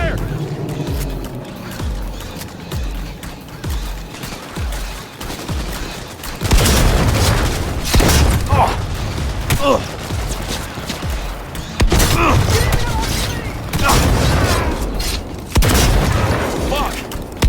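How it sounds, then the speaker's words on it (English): Heavy gunfire in the video game Cyberpunk 2077, including Rebecca's shotgun, booms in loud repeated bursts from about six seconds on, mixed with explosions and mechanical clatter, while voices shout over the shooting. "Opening fire!"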